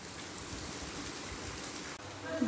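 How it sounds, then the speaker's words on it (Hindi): Heavy monsoon rain pours steadily onto a rooftop and drain, a dense continuous hiss of water with no pauses, close and even in level throughout. "बारिश बहुत तेज़ है"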